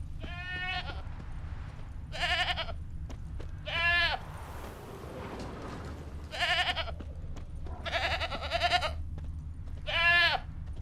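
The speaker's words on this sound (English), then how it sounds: "Can't smell Eskel, but there is the goat." A goat in the video game The Witcher 3: Wild Hunt bleats six times in loud, wavering calls spaced a second or two apart, over a quiet, steady ambient bed.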